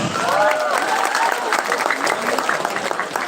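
An indoor audience claps steadily for a few seconds at a youth talk show event, a dense, even burst of applause that stays loud from start to finish.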